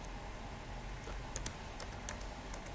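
Scattered, faint keystrokes on a computer keyboard, a few light clicks spread out over a low steady background hum, with no talking.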